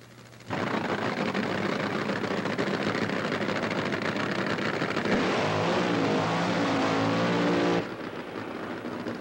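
Top Fuel dragsters race at the 28th Annual U.S. Nationals, a sudden thunderous crackling roar that starts abruptly, swells further midway and then drops away after about seven seconds, leaving a fainter background.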